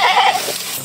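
A goat gives a single short, wavering bleat, close and fairly loud, fading out within a second.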